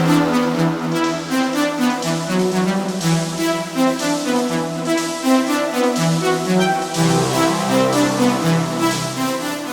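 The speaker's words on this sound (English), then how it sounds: "we have dark but beautiful melodies that fill out the track" Dark but beautiful melodic techno melodies: sustained synth chords and a shifting lead line that swell and change pitch every couple of seconds, full and steady without any talk.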